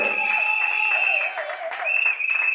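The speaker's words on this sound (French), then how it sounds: "Est-ce qu'on peut acclamer très fort pour monsieur Alain et mademoiselle" Wedding guests at a civil and customary Congolese ceremony clap and cheer for the couple, a bright, dense burst of applause with shouts, briefly dipping then rising again.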